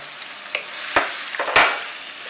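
Slivered ginger goes into a pan of frying chicken, a close sizzle broken by a few sharp scraping stirs and clatters of the spoon against the pan.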